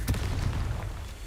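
A Confringo fire spell cast in Hogwarts Legacy sounds as one loud, booming explosive burst near the start, with a rumbling tail that carries through the rest of the short moment.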